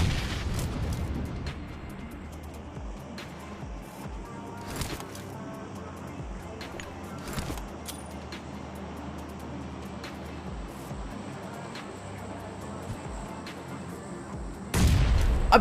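Grenade blasts and gunfire in the battle royale game PUBG, with scattered booms and sharp shots over a steady game-world rumble and a loud burst near the end.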